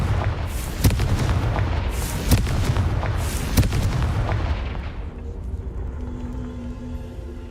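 Blasting-spell explosions in Hogwarts Legacy boom repeatedly, several loud, sharp blasts in a dense roaring barrage that fades out into a quieter rumbling tail.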